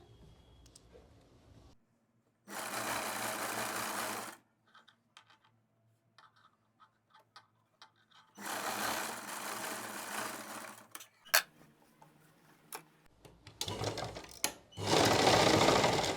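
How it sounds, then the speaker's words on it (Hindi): A sewing machine runs three separate stitching bursts along a salwar waistband (nefa), each a few seconds of fast close mechanical whirring. Quiet stretches with small clicks and handling taps fall between the bursts. "इसके ऊपर पक्की एक सिलाई कर देते हैं"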